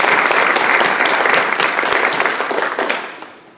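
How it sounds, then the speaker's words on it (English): A university lecture audience gives a round of applause, a thick burst of many hands clapping at once that holds for a few seconds before trailing off. "let's give them a round of applause"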